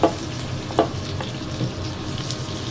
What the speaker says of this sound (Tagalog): Pagkarne, dito na tayo magigisa. Ayan, bawang. Kulahin natin ng bawang.